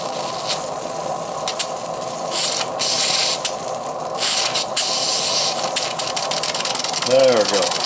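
A Stuart model steam engine running under steam, with continuous hissing and rapid chuffing beats, bursts of louder steam spray, and someone talking over it at times.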